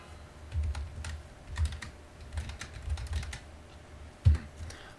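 Quick keystrokes on a computer keyboard pressing a copy, paste and Enter shortcut, a few close, sharp clicks spaced irregularly with one louder final tap, with no talking.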